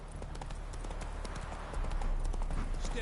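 Horse hooves clop in a quick trot in a video game, a short run of steady, moderately loud hoofbeats that grows a little louder toward the end.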